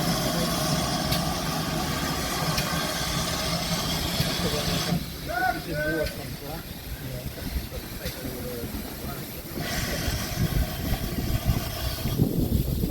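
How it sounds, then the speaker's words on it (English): A gas locomotive idles at a heritage railway station during a steam gala, a steady loud engine rumble with hissing, dipping briefly mid-way before picking up again, with people talking faintly in the background. "Yep, that's the gas locomotive"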